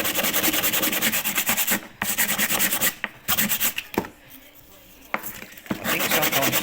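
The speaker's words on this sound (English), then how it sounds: "Give that a bit of a scrub." Wooden miter joints being scrubbed, a steady close abrasive rubbing that runs in long continuous strokes, broken by a few brief pauses, with no talk over it.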